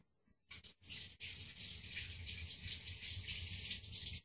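Tap water gushes steadily from a kitchen faucet while a jalapeno is rinsed under the stream, starting after a brief pause and running continuously, close and fairly loud, with no talking.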